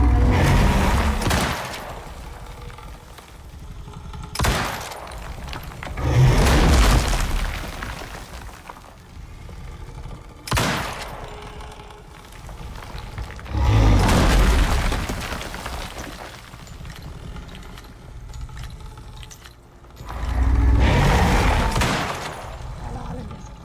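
Gunfire in the survival video game Icarus, with bursts of shots arriving in loud clusters separated by quieter gaps, spread across the stretch alongside game ambience.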